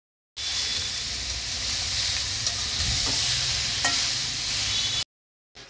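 Ridge gourd for a mixed vegetable dish stirring and frying in a pan, with a steady close sizzle and a few light knocks of the spoon, cutting off abruptly at the end.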